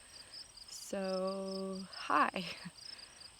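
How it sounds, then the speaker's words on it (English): Crickets chirp outdoors at night in a steady, rapidly pulsing chorus that runs throughout, joined partway by a droning hum-like tone and a brief spoken greeting. "the crickets and all that nature stuff is very loud"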